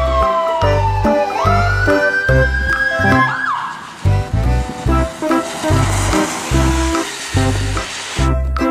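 A toy ambulance plays a loud electronic siren with a wailing tone, set against a busy, repetitive electronic jingle that keeps pulsing steadily throughout.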